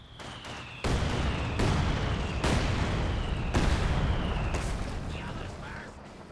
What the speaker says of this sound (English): The assault officer is pushed right forward, and does bring in the mortar barrage